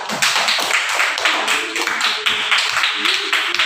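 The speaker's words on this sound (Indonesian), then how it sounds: "Tepuk tangan untuk kelompok 2." Classroom clapping for a student discussion group during a school supervision lesson, a steady run of many quick hand claps from a nearby group, with faint voices underneath.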